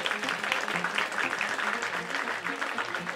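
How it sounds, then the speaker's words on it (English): A crowd of hands claps during a children's bedtime story, a steady scattered applause texture held at moderate loudness with faint voices underneath. "I need you to clap your hands."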